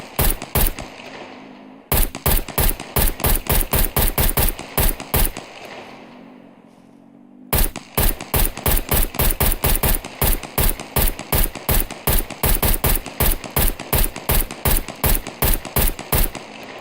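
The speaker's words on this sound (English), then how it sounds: "Zombies don't hear this gun." Rapid automatic gunfire from a gun in a zombie video game, loud and close, in two long bursts of evenly spaced shots split by a short lull.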